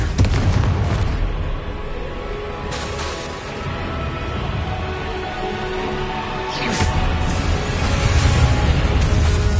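Confringo fire-blast spell explosions in Hogwarts Legacy, dense loud booms and bursts rolling continuously with a few sharper cracks around the middle and end.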